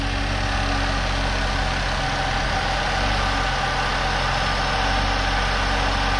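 A 2011 Saab 9-5 with a newly replaced intercooler idles steadily just after starting, a loud, even low engine hum with slight vibration and no talking.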